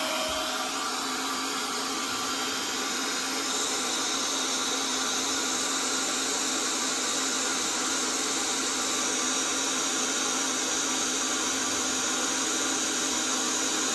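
Intex electric air pump inflating an air mattress, a loud, steady, unbroken whirring roar of motor and rushing air that runs for the whole stretch without pause and without talk.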